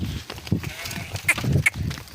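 Sheep and goats climbing a slope with a herding family, brief bleats and scuffing hoof sounds, two sharper calls standing out over low rustle and a faint voice.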